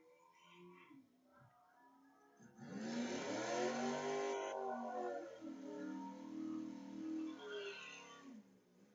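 A 2007 Ford Mustang race car engine revs up at a raceway, rising into a loud, sustained roar, then settling into lower wavering revs, with faint background noise before and after.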